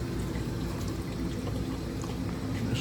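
Antifreeze drains from the engine of a 2017 Jeep Grand Cherokee during a thermostat replacement, giving a steady, faint pouring rush of liquid with no breaks.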